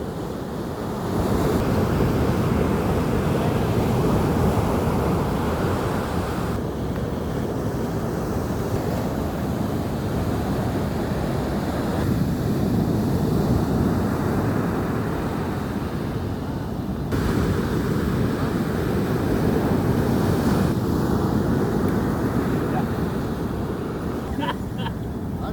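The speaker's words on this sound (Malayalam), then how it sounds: "കടൽപ്പുറമാണിത്" Sea waves wash onto a beach where people are fishing with lines, a close, steady roar of surf with strong wind noise on the microphone, swelling and easing in slow cycles.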